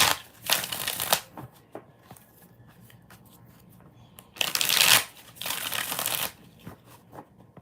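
Tarot cards shuffled by hand in two bursts of crisp riffling, a short one near the start and a longer louder one later, with soft card taps and handling in between, close to the mic.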